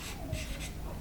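A word written by hand on a surface, a brief close scratching stroke pattern lasting about a second, no voices.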